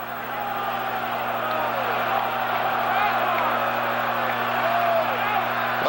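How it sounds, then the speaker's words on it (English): Stadium crowd at a 1981 Michigan vs Minnesota college football game, a sustained roar of cheering filling the background under broadcast commentary. "The crowd getting into it now"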